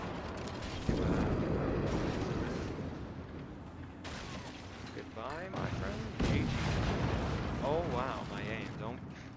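Cannons firing in the ship-combat game Forts, loud booming and crackling blasts packed densely across the whole stretch, with sharp onsets near 1, 4 and 6 seconds, under continuous game music and a talking player.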